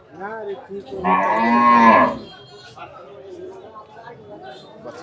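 A cow at a busy cattle market moos once, loud and close, for about a second between bursts of nearby talk and haggling voices.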